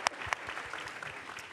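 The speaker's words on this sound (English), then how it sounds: "Please welcome her, even though I said hold applause" Audience applause at a Radcliffe Day panel discussion welcoming panelist Mira Nair, a short burst of dense clapping opening with a couple of sharp, close claps.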